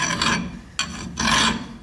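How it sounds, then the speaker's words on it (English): Metal file rasping down a prominent screw thread on a 1956 Chevy, three close, loud scraping strokes with short pauses between them, heard alone. "So I'm just filing this prominent thread down"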